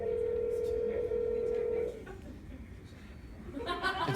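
A phone places a call: a steady electronic tone holds for about two seconds and then cuts off, while a crowd at a convention panel murmurs and chuckles underneath.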